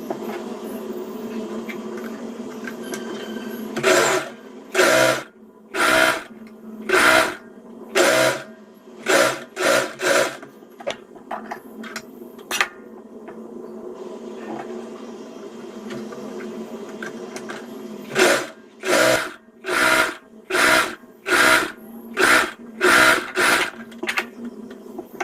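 A sewing machine stitches a blouse in repeated short bursts of rapid mechanical whirring, with quiet pauses between the runs, close and clear with no talking over it.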